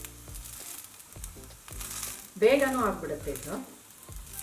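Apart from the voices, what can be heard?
food frying on a pan over medium flame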